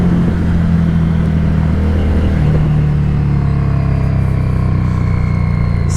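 A 2017 Harley Davidson Street 500 motorcycle engine rumbles loudly and continuously with rising revs while riding, heard up close with no talk.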